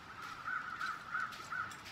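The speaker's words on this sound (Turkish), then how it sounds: "Kuşlar." A run of four or five harsh crow caws at a moderate distance in the video game The Long Dark, evenly spaced over a steady background hiss.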